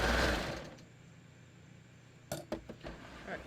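A serger sewing machine chains off a thread tail at the end of a seam on a small knit tee, whirring steadily at the start, then a few short mechanical clicks and taps, with no talking.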